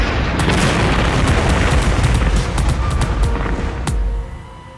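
A heavy airstrike explosion from a movie trailer roars loudly and close, a sustained blast with crackling debris that fades near the end.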